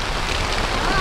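Heavy rain pours steadily on a Borneo 6 camping tent, a dense, loud, unbroken hiss of drops close overhead.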